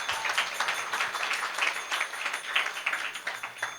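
An audience at a Hindu temple's Ganesh Utsav celebration gives a round of applause to members on stage, irregular crisp claps from a modest crowd, steady and moderately loud throughout without talk.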